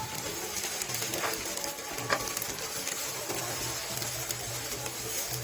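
Garlic fried rice (sinangag) being stirred and fried in a pan, a steady broadband sizzle with intermittent scraping and clinking of the spatula against the pan throughout.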